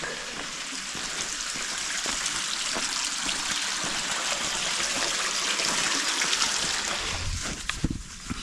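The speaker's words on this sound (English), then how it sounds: "A little brook." A small brook flows steadily nearby on the Dragon's Back walk in the Peak District, a constant bright babble and rush of water with a few louder splashes near the end.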